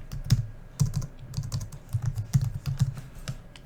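Keystrokes on a computer keyboard, a close, rapid run of distinct clicks and thumps with uneven rhythm, heard alone without talking.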